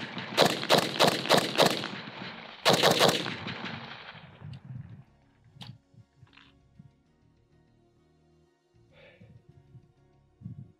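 A Riley Defense RAK47 rifle with a muzzle brake fires 7.62 rounds outdoors: five sharp, loud shots in quick succession, then another close pair. Each blast trails off into echo, followed by faint scattered sounds and quiet.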